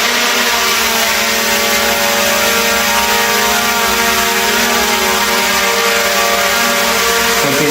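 A DJI Air 2S drone flies backward, its propellers giving a steady, loud, high-pitched whirring drone with a lower hum beneath, constant throughout with no talking.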